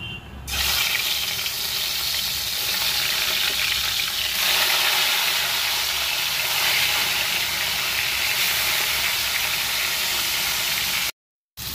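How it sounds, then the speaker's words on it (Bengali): Katla fish frying in hot oil, a loud, dense, continuous sizzle and crackle close up, running unbroken for several seconds before cutting out briefly near the end. "এদিকে আমার মাছ হয়ে গেছে, মাছ ভাজা করে নিয়েছি"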